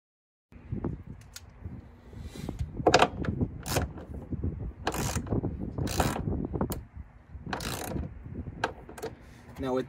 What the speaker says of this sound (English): you get to watch me go to town with the ratchet